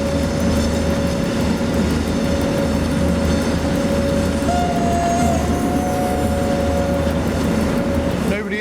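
Train rolling on rails in the SimRail simulator, a loud continuous rumble with a steady engine drone and a brief rising tone partway through, sustained throughout.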